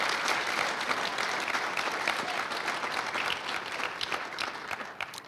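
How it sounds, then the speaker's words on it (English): A college audience at a strategic plan unveiling breaks into sustained applause, a dense, even wash of many hands clapping at moderate loudness that continues throughout and eases slightly near the end. "I didn't know that was going to be an applause line, but all right."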